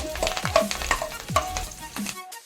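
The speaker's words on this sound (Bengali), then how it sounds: "অন্য সাইডে কারি পাতাগুলো ভেজে নিচ্ছি," Curry leaves fry in oil at one side of a large wok, giving a busy crackling sizzle broken by repeated scraping stirring strokes close by, which then ends abruptly.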